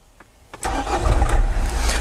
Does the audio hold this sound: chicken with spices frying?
no